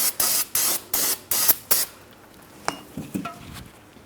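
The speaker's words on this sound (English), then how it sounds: "we'll go ahead and clean this down with some parts cleaner as well" Parts cleaner is sprayed onto the front brakes of a 2003-2007 Cadillac CTS in six short, evenly spaced hissing bursts, followed by a few faint metallic clinks.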